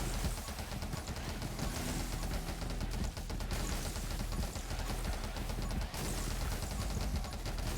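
Rapid automatic gunfire from the running gun in 20 Minutes Till Dawn, played with Yuki on Darkness 15: a steady, dense stream of shots that never lets up, evenly loud with no pauses.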